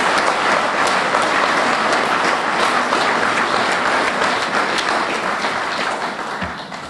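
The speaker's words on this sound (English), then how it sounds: "if you'd give him and also Jones, Mr. Jones here, a round of applause" An audience at a veterans memorial building grand re-opening ceremony gives a sustained round of applause for honoured veterans, loud and dense clapping that slowly fades toward the end.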